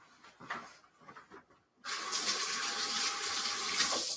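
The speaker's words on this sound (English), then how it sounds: "I gotta wash my hands." Water gushes steadily from a running tap while hands are washed beneath it, close and continuous after a few seconds of soft handling noises.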